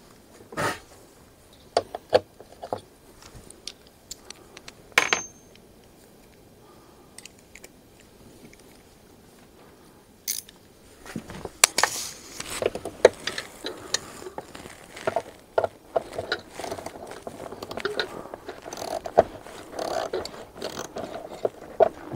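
An air cleaner coming off a 1991 Lotus Esprit during restoration, with sparse clicks and ratcheting at first, then a denser run of rattling, clunking and scraping of parts being handled up close.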